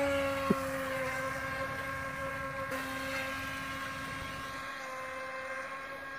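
A Feilun FT012 RC racing boat runs on the water with a steady, high electric motor whine. The sound holds even and fairly loud throughout, with a brief knock near the start.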